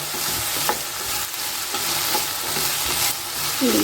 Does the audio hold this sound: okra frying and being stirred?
yes